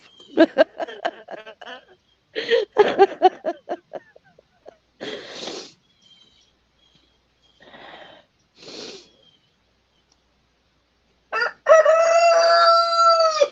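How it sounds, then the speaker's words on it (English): A rooster crows repeatedly nearby, loud bursts of cock-a-doodle-doo with clucks and snorts between them and quiet gaps, ending in a long strong crow. "you can have a rooster standing behind you crowing and make you laugh"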